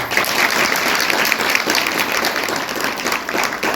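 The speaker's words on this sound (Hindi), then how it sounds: "उनके लिए जोरदार ताली बजाएं।" Dense, loud audience applause from a large gathered crowd, continuous clapping sustained evenly for a few seconds without voices over it.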